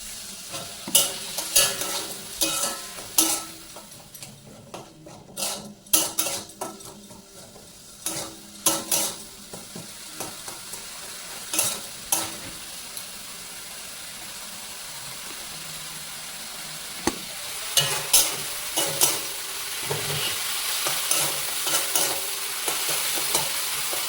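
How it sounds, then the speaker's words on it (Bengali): Spice paste of Kashmiri chilli powder and salt with a splash of water, stirred and fried in oil for a vegetarian potato and pointed gourd curry: steady sizzling with repeated scraping strokes of a spoon against the pan, no talk. "মশলাটাকে ভালো করে কষাচ্ছি, দেখুন তেল ছাড়ছে মশলাটা"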